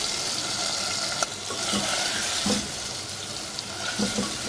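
Mutton handi roast, almost dry and frying in its leftover oil, sizzles steadily as lemon juice goes into the pot, with a continuous close crackle and a few brief spits and pops, no voices.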